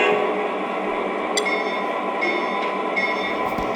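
A Lionel Legacy Conrail SD-50 model locomotive rolls along track with a steady mechanical rumble and light clicking and squeaks from the wheels, close and continuous for a few seconds.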